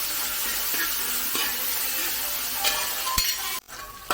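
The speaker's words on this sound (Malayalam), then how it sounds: "അപ്പോൾ അതുകൊണ്ട് നമ്മുടെ സവാളയും തക്കാളിയൊക്കെ വഴന്നിട്ടുണ്ട്" Onions and chopped tomatoes sauté for a chicken curry in a pan, giving a steady loud sizzle with light stirring scrapes throughout and a brief clink near the end.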